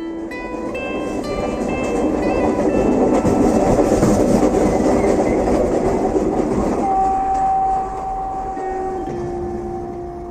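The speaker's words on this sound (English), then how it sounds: "iron wheels clacked against their rails, speeding along the track as one great beast." A steam train rumbles past, iron wheels clacking on the rails in a rhythmic clatter that builds then eases, and a sustained horn-like tone rises above the noise toward the end.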